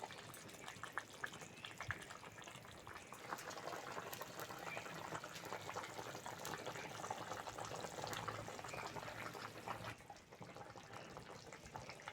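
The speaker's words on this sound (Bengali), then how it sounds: "ঝোল ফুটে গেছে" Thin Bengali fish curry broth with kulfa greens, papaya and potato boiling steadily in a pot, a continuous bubbling hiss and rolling simmer close by, dipping slightly near the end.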